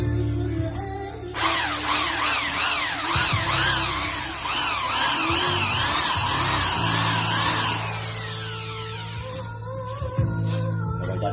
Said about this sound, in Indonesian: Jadi saran-saran daripada menggunakan gerinda bagus menggunakan bor.